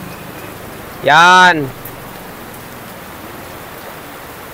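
Heavy rain pours down in a steady, dense hiss that fills the whole stretch, with a single brief voice breaking in near the start.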